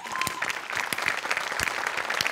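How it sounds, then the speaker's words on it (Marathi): A studio audience at a Marathi comedy show gives brisk, continuous applause, a dense patter of many hands close to the microphone for a couple of seconds. "एकदा जोरदार टाळ्या"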